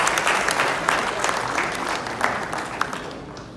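An audience gives a round of applause at an evening lecture on blockchain and corporate compliance, dense sustained clapping that tapers toward the end.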